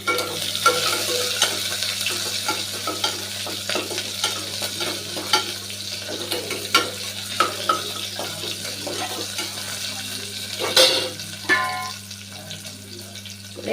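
Tomato and green chili sautéing in a pan for spinach kootu, a soft continuous sizzle broken by scraping stirs and light clinks of a spoon, with a low steady hum underneath and no talking.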